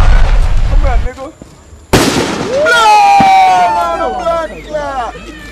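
A fireworks cannon fires with a sharp loud bang, followed by crackling bursts and whistling, squealing trails that fill the air for several seconds, with excited people shouting nearby before and after the blast.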